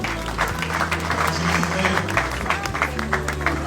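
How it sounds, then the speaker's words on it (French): Wedding guests applaud in a loud, steady burst of clapping that continues without a break, with music and the murmur of the reception underneath. "Est-ce qu'on peut acclamer très fort"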